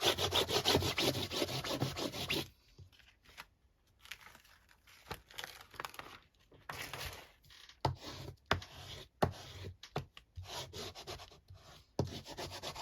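A paper napkin tag being rubbed down by hand on the back of a craft mat, with loud continuous scratchy rubbing at first, then quieter bursts of brushing and scraping strokes, no talking.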